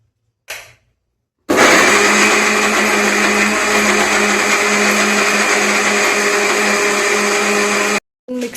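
A kitchen mixer grinder whirs loudly and steadily for several seconds while grinding ginger and garlic, a continuous high motor drone that cuts off abruptly, with short bursts at the start and end.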